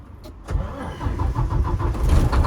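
A 2014 Volvo VNL day cab's D13 diesel engine cranks briefly and fires up, settling into a deep, rumbling idle that grows steadily louder and rougher, close by with no talking.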